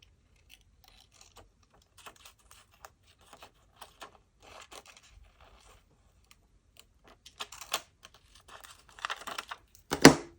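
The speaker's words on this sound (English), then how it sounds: "So I'm just going to cut around there. Cut these individual leaves off." Scissors snip individual paper leaves off library catalogue cards, quiet scattered cuts and rustles that build into denser crinkling and a sharp paper sound at the end, with no talk.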